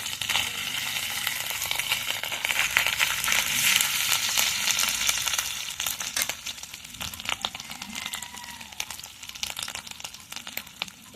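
Turmeric and a little salt hit hot oil in a pan for a vegetarian stuffed pointed gourd dish, producing a continuous close sizzle that is louder early on, then thins into scattered spattering crackles.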